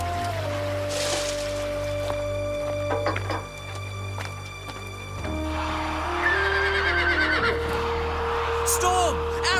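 A horse whinnies over a steady musical backdrop, with a second shrill neigh rising later amid busy background sound.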